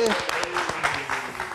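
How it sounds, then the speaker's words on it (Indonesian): Studio audience applause at a live Indonesian talk show, a brief burst of clapping heard beneath a host's voice and cheers, fairly close and moderately loud. "Kita tepuk tangan sekali lagi."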